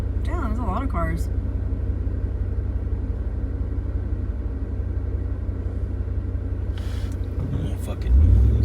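Steady low traffic rumble from cars on a road near an off-road trail in Big Bear, with a brief voice at the start and a louder surge as another vehicle nears at the end.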